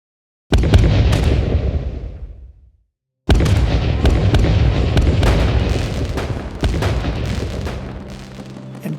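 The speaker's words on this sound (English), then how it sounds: "Erie citizens celebrated the 4th of July with fireworks at their bicentennial tower" Fireworks bursting over a Fourth of July celebration at the bicentennial tower in Erie, with repeated loud booms and crackling shells in dense succession, a brief pause, then a sustained barrage of overlapping explosions.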